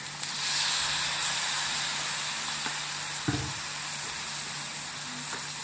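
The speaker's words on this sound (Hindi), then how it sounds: "अब हम इसके अंदर सिरका डालेंगे 1 चाय का चमचा" A teaspoon of vinegar added to a hot pan of chicken for chicken tikka, with a loud continuous sizzle, a brief sharper hiss and light stirring, no voices.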